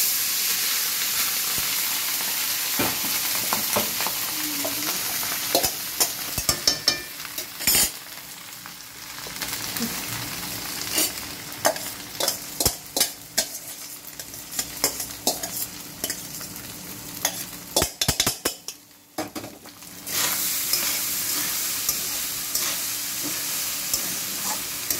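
Pulao rice mixed with whole garam masala and bay leaves being stirred in a frying pan, a sustained sizzling hiss broken by repeated scraping and clattering strokes, close and fairly loud.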